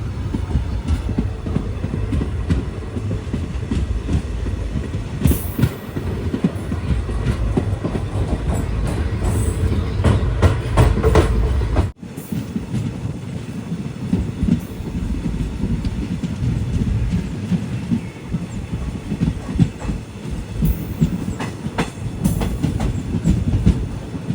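A passenger train running between Tirunelveli and Kanniyakumari in Tamil Nadu gives a steady, close rumble with a rhythmic clickety-clack of wheels on rail joints. The sound continues throughout, with a brief dip partway through.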